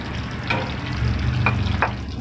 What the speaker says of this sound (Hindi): तो ऑयल गर्म हो चुका है, इसमें ऐड करेंगे प्याज।